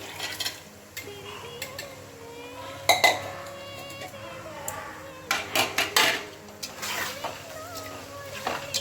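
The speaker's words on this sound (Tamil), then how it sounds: "இப்போ இதில் வந்து நம்ம இந்த மட்டனை சேர்த்துடலாம்." Pieces of mutton going into a pot for Sunday mutton biryani, with irregular clanks and scrapes of a utensil against the pot and a faint sizzle, while someone talks over the cooking noises.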